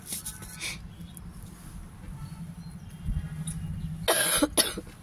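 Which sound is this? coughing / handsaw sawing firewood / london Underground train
coughing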